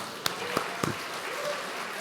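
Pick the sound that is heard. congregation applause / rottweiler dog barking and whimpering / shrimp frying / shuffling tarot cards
congregation applause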